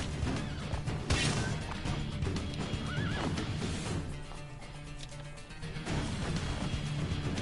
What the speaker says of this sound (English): Come on, get on the horse, Ezio.